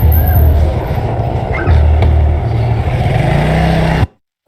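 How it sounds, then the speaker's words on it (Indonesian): A car rumbles past close by on a road, a loud steady engine drone that holds for about four seconds before cutting off abruptly. "Wah, ada mobil tuh."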